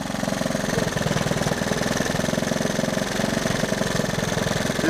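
A three-wheeler engine idles during carburetor adjustment, with a rapid, even chugging pulse and mechanical clatter, loud and close, running steadily with no voices.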